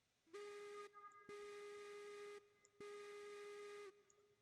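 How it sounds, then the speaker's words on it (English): Three long blasts of a steam locomotive whistle from the Class 48 engine in the railroad simulation game Railroads Online, each a steady, harmonic-rich tone lasting about a second, sounding loud and close with short pauses between them. "That whistle sounds terrible."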